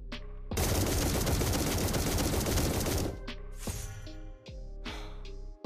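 Granger's first skill in the Mobile Legends video game fires a dense, continuous barrage of shots for about two and a half seconds, then breaks into separate ringing, metallic reports that decay one after another.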